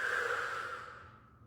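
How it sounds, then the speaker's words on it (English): A slow, steady exhale from a person during a guided relaxation exercise with palms resting above and below the belly button, a soft close breath that fades gradually over about a second and a half. "breathe out"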